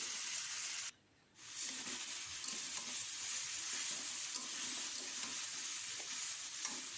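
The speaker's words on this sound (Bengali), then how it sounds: "আর অল্প অল্প জল দিয়ে একটু কষতে থাকবো।" Spiced jackfruit frying in a pan, a loud steady sizzle and hiss close up, briefly cut off for a moment before resuming as small splashes of water go in.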